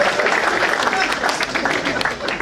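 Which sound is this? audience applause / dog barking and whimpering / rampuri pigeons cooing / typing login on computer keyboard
audience applause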